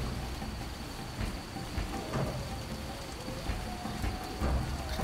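Steady rain falls in the fantasy game The Witcher, a soft continuous hiss with faint insect-like chirping and occasional low rumbles, heard alone without talk.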